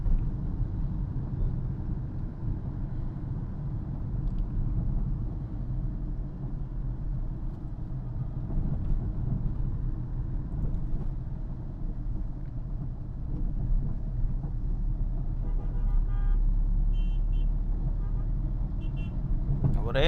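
A car cruising in third gear through Chennai city traffic, with a steady low engine and road rumble throughout and a brief horn-like toot near the end.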